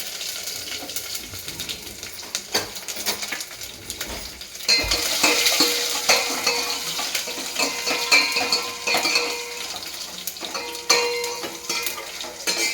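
Mustard seeds, cumin, curry leaves and crushed garlic fry in a pan with a steady sizzle that grows louder partway through, while a utensil clinks and scrapes against the pan.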